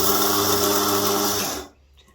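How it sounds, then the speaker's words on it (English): Grinder spinning cacao down into powder, a steady high whirring motor drone that runs close and loud for a moment then stops abruptly. "Now you can grind it down into a powder, but the more that you grind it, it warms up the cacao butter and creates a paste."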